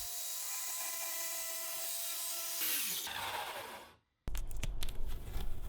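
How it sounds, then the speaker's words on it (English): Circular saw fitted with a new Diablo blade cutting through a wooden window seat top along a clamped yardstick guide, a steady close whine that winds down, a brief silence, then louder rough clattering noise. "After picking up a new Diablo saw blade for this project, I adjusted the depth so that it would just barely cut through the top of the window seat."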